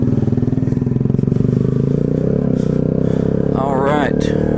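Kawasaki Z125 motorcycle fitted with basic bolt-on upgrades, its engine droning steadily and close throughout a ride, with a rising rev near the end and a voice talking over it.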